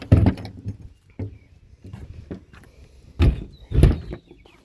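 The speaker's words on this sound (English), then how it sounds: "All right, shut this trap door." A wooden trap door in a barn is handled and shut, with scattered knocks and scraping, then two heavy close thuds as it closes.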